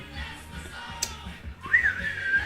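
A person whistles a short tune from the theme of The Good, the Bad and the Ugly. It comes in near and moderately loud as a rising, sliding line of notes over a low background hum, with no talking.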